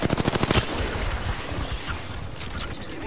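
Rapid automatic gunfire in the Apex Legends video game, a quick burst of close, sharp repeated shots followed by echoing fire and clattering effects.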